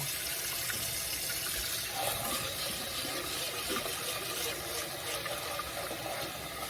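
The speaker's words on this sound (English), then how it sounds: "You basically just rinse it until the water is clear." Water runs steadily from a tap into a bowl or sink as rice is rinsed, a continuous splashing rush with slight shifts as the rice is swirled beneath it.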